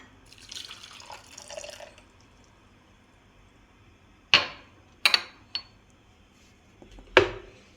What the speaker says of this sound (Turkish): Büyük kavanoza bir çay bardağı dolusu sirke ekliyorum.